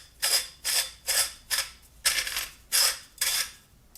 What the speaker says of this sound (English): so there's a little bit of a grinding sound